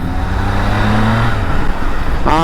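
Triumph Tiger 660 motorcycle engine on a ride, a loud, steady drone mixed with rushing wind noise, with a brief rising whine near the end.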